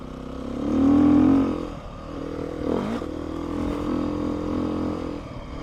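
A 2019 Beta 125 RR-S dirt bike engine revs under throttle while the rear slides around. A loud rising rev is followed by a dip, then a steady working drone with scraping clatter.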